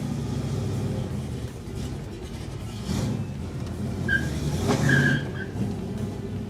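A 1970s Camaro muscle car engine rumbles and roars, its low growl building in intensity with a brief tire squeal near the end, heard fairly close without talk.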